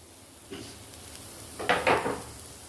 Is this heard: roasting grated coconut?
yes